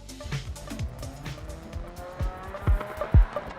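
Engine revving with sharp tire squeals as a rally car slides through corners in a Codemasters rally video game, bursts of skidding rising toward the end.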